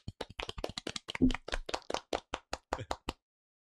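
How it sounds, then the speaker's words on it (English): A small group of a few people clapping on a podcast, a short sparse run of distinct close hand claps that stops abruptly. "we should give Frankie a big podcasting round of applause"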